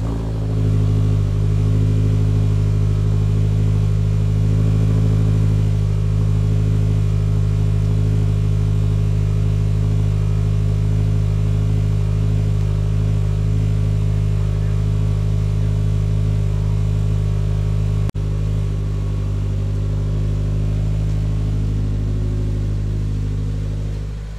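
Subaru WRX (2022 or newer) with an upgraded Blouch turbo and Cobb cat-back exhaust, cold-starting and holding a loud, steady high idle with a deep, constant drone throughout, no talking over it.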